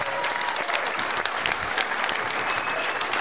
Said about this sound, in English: a big round of applause to both fighters for a fantastic contest.